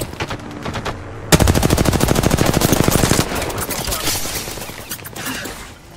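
Apex Legends gunfire: a long rapid automatic burst of close, loud shots, then scattered quieter shots and game effects fading out.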